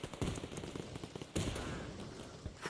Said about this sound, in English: Mortar rounds coming in hot.